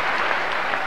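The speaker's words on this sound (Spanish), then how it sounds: "Sergio, esos aplausos." A stadium crowd applauds at the 1993 Roland Garros men's final, a brief dense roar of clapping heard from a distance.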